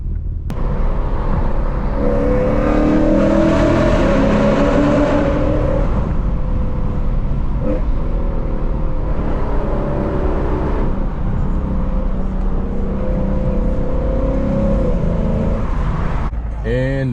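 Car pulling away and accelerating through congested town traffic, its engine rumbling and rising in a steady whir close by for the full stretch, with road noise and a brief tonal sweep near the end.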